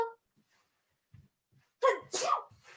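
One loud, close sneeze bursts out after a few seconds of near silence broken by small shuffling noises.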